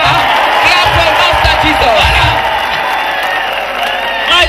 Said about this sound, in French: Mais applaudissez pour Dieu, non?